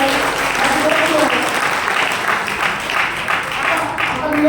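An audience applauds at a network marketing business meeting, a steady wash of clapping from many hands mixed with a voice talking over it throughout.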